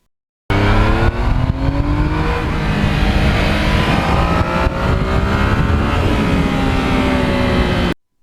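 A 2020 Yamaha MT-09 motorcycle exhaust roars at wide open throttle, a loud, close, continuous rising engine howl that climbs through the revs before cutting off.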